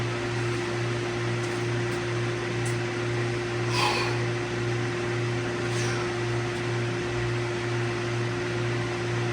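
A motor that has just been started idles steadily with a constant low hum and a steady tonal drone, running a little rich with 77 pounds of oil pressure; a faint brief rattle rises once midway.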